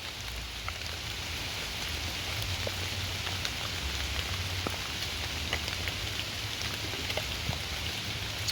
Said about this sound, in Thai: ฝนก็ตกไปเนาะ